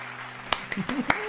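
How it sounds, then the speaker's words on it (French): A few separate hand claps, about five of them at uneven intervals. They are fairly close and sharp, with a faint hum and a little voice sound between them. "On applaudit."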